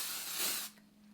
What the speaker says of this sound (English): Let's just do a little spray.